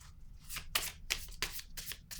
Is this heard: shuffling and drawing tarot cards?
yes